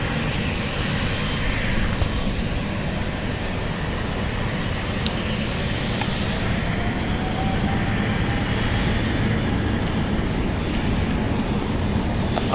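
A Korean Air airliner rolls along a runway at San Francisco International Airport, heard as a steady, moderately loud broadband jet roar that holds evenly throughout with no talk.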